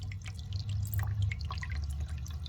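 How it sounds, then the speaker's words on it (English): Water drips from a rain barrel spigot into a bucket at a goat barn rain harvest setup, giving a close, quick patter of small drops over a low steady background. "it's barely a drip on the spigot here"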